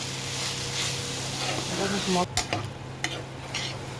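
Greens and potatoes stirred as they fry in a pan, a steady close sizzle with scraping strokes and a few clattering knocks of the spoon toward the end, with a voice heard briefly under it.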